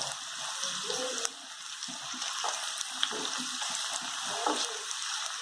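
Onions with red and green chillies fry in a pan for Kerala-style beef fry, a steady close sizzle with occasional stirring scrapes and soft clicks.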